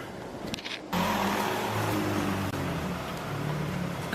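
A supercar passing close by on a city street, its engine note swelling suddenly into a loud, sustained roar that holds for several seconds.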